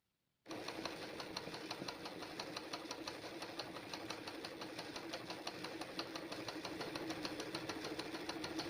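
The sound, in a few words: embroidery machine running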